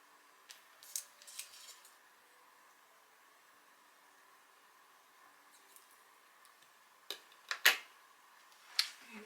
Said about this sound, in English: and then I will cut